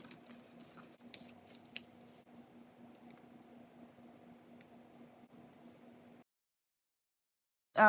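Scissors cut patterned scrapbook paper along a marked line, giving a few faint, quiet snips over a low steady hum, followed by a pause and a short closing burst.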